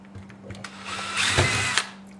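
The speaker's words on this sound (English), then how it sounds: "Don't drill and hold the drill bit in there too long" A power drill drilling into acrylic gigging lights whines up to speed and runs briefly in a short, loud burst before spinning down, with a steady low hum underneath.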